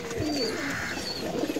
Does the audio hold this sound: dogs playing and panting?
no